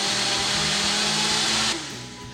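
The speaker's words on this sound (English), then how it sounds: "let the blender really finish this and make it smooth" A blender purees a Hatch chile sriracha mash, a loud, steady, high-powered whir that runs continuously, then drops in pitch and volume as the motor winds down near the end.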